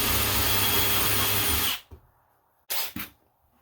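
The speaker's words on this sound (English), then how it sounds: "I'm going to use a 1/8" drill bit, and I'm going to drill a couple of pilot holes through here" A power drill with a 1/8-inch bit bores pilot holes through an Ikea shelving unit, whirring loudly for almost two seconds and then stopping, followed by two short bursts of the drill.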